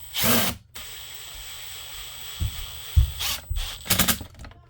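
A cordless drill with a T20 Torx bit drives screws into a Dewalt DCS382 reciprocating saw during a shaft change, giving several short, close whirring bursts separated by pauses.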